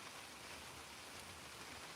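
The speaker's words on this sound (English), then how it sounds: "It is raining." Rain falls steadily outdoors at night, a soft, even wash of faint patter with no breaks.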